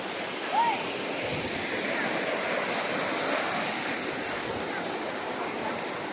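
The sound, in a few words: waterfall at Chiling Falls, Kuala Kubu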